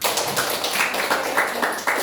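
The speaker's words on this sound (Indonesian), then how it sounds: "Ya, tepuk tangan untuk kita semua." A class in a school lesson applauds together, producing a busy patter of claps with a loose, pulsing rhythm, moderately loud in a room.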